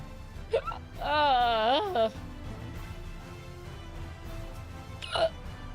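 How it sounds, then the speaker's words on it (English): Several sharp hiccups from a person, a short burst near the start and another toward the end, with quiet background between and no other voices. "Fucking hiccups."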